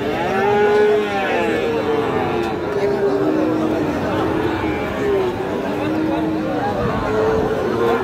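Sahiwal bull calves at the Raniganj cattle market low and drawn-out, repeated moos rising over a busy crowd of people talking nearby throughout.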